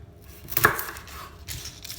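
A knife chops a large white onion in half on a cutting board, giving one sharp close chop followed by a quieter board tap, with little else around it.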